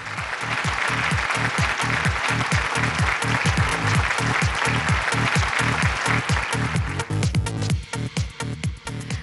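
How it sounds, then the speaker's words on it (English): Audience applause at a women-in-business awards ceremony, loud sustained clapping from a large crowd with a steady rhythmic beat running underneath, thinning out toward the end. "Ladies and gentlemen, please put your hands together for Dr. Jyotsna Suri."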